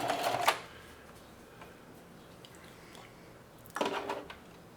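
A sewing machine back stitching apron straps runs in two short bursts, one at the start and one near the end, with a quiet pause between.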